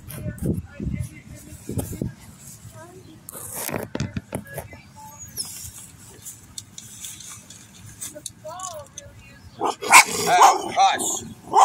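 A dog barks and yips in short irregular bursts, close by, mixed with a person talking and some clattering.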